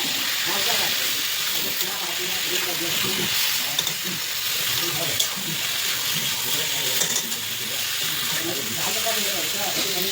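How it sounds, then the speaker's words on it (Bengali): Masala is stir-fried in a pan, giving a steady close sizzle and hiss that lasts throughout, with a person talking quietly over it. "তো একদম ভালো করে কষে নিচ্ছি।"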